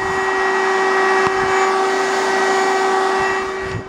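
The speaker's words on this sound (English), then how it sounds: "We're just finishing up vacuuming the basement." A vacuum cleaner runs steadily in a basement with a constant droning whine, loud and close throughout, with a faint thump partway through.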